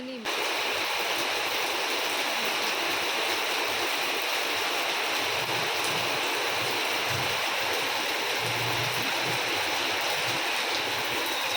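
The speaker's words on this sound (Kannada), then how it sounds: "ಅಷ್ಟರಲ್ಲಿ ಮಳೆ ಕೂಡ ಜೋರಾಯಿತು." Heavy rain pours down outside during a home routine, a dense, constant wash of hiss and splatter that stays loud and even throughout.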